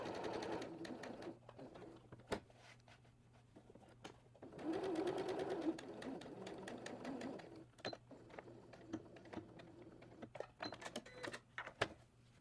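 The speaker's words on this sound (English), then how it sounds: "we're going to sew as close to the edge along this edge and along this edge to kind of form a right angle" A sewing machine stitches along the edges of cotton fabric for a dog bandana, making soft, quiet runs of rapid needle chatter broken by clicks and pauses as the fabric is turned at a corner.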